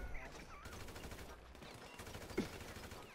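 Rapid automatic gunfire in GTA Online, a fast rattling volley of shots running throughout at moderate loudness, with one sharper louder crack near the end.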